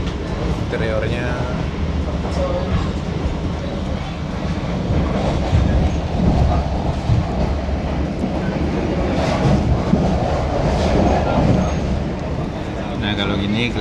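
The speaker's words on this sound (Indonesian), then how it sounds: "Nah ini suasana di kereta makannya teman-teman." Steady rumble and clatter of the KA Kertajaya passenger train heard from inside its dining car, with continuous wheel-on-rail noise and occasional squeaks while people talk throughout.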